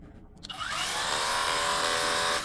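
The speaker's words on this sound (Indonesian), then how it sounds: "Kemudian ini mode untuk siram-siram tanaman bisa, shower dia." Hajime cordless brushless battery jet cleaner with variable pressure, spraying in its gentle shower mode for watering plants; a steady, loud hiss of water spray starts after a brief moment and runs on continuously.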